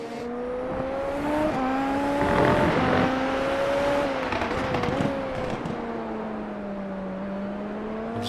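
Onboard Super Formula race car engine lapping Interlagos in iRacing, a loud continuous high whine that climbs and dips with shifts and throttle, steady throughout with no talk.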